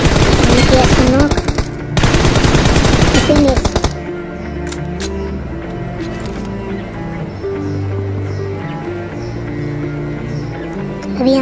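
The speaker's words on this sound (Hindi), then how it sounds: "अभी यहाँ से मुझे फायर आते हैं" Automatic gunfire in the BGMI mobile battle royale game rattles in two loud, fast bursts over the first few seconds, then gives way to quieter in-game ambience with scattered faint effects.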